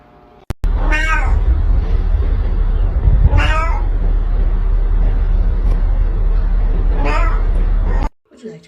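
Cat swaddled like a burrito lets out three drawn-out meows spaced a few seconds apart, close and loud over a low steady hum.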